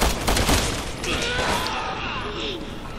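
Gunshots in Resident Evil 6 during Chris's story, a loud burst at the start followed by a rumbling, fading tail and lingering game ambience.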